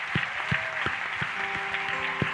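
An audience applauds and cheers for a person at a solemn moment during a COJERAF gathering, a steady dense wash of clapping with a few louder thumps, close and continuous throughout.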